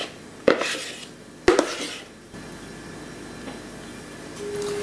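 Sponge cake batter goes into a 23 cm baking form greased with vegetable oil, with two sharp metallic clanks of the pan about a second apart, then quiet soft handling.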